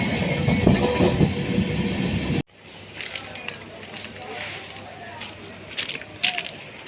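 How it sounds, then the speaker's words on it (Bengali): Sairang–Kolkata Express rolling into Berhampore Court station: a loud, dense rumble of wheels for about two seconds, then abruptly quieter running with faint rail noise and a low steady hum as the train slows. "এই মুহূর্তে আমাদের ট্রেন প্রবেশ করছে বহরমপুর কোর্ট রেলওয়ে স্টেশনে"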